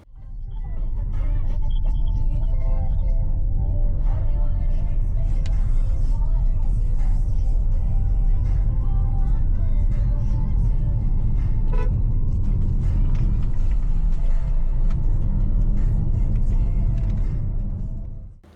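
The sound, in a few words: Ford Territory Hybrid car driving on the road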